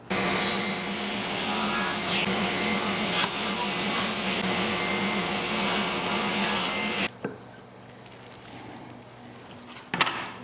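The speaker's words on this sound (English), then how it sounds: "So let's go ahead and cut out the stripes." A power saw cuts fence picket wood into stripes for a flag bottle opener, running loud and steady for about seven seconds before stopping, leaving a quieter tail with a brief knock near the end.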